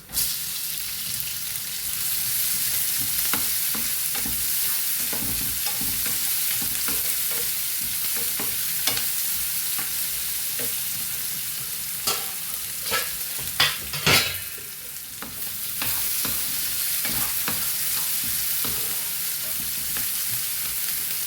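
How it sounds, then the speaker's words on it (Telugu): Onions fry in a pan for a cashew cauliflower curry with kasuri methi, a continuous bright sizzle broken by repeated scraping stirs and clinks. The stirring picks up in the middle, and no voices are heard. "చూడండి, ఉల్లిపాయలు వేగాయి అన్నమాట."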